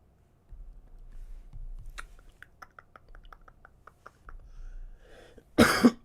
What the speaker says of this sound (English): my cough hasn't been too bad